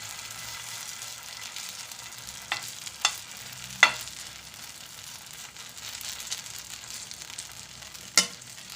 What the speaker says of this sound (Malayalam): ബാക്കിയുള്ളതും കൂടി ഞാൻ കോരി ഒഴിച്ച് അതുപോലെ തന്നെ ചുട്ടെടുക്കുകയാണ്.